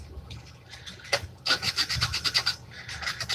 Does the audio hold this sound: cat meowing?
no